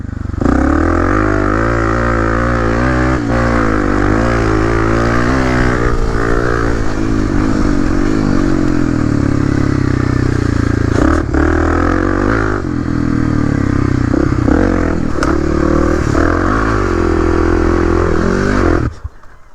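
A KTM 250 XC dirt bike rips along a drying woods track, its engine loud and close throughout, revving up and down through the gears with brief dips between bursts of throttle and no talking.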